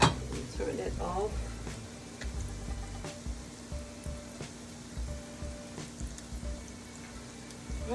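Salmon croquettes frying fast in a pan give a faint, steady, crackling sizzle that runs the whole time, with the low murmur of a nearby kitchen.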